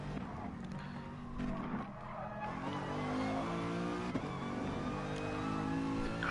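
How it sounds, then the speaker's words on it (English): Race cars rev and roar at a King of the Ring finale, engines droning loud and continuous with rising and falling pitch, a sharp transient near the middle, and no talking over the sustained mechanical noise. "you must love the sound of these cars"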